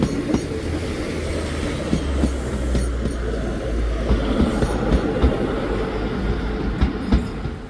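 Class 156 passenger train 156421 departing a station in Newcastle, a steady rolling rumble with a low engine drone and faint wheel clatter, close and continuous throughout.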